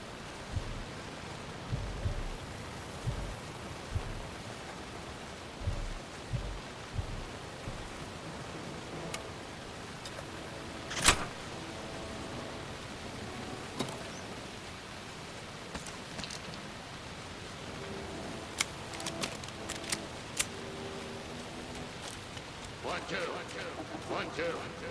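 Steady rain in the horror game Alan Wake 2 falls as a dense, even hiss through the whole stretch, with scattered drips and small knocks on top and a voice speaking over it.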